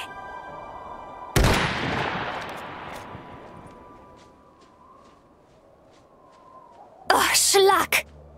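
A single sharp rifle shot in Iron Harvest cracks out and echoes as it fades, followed after a quiet stretch by a brief loud burst.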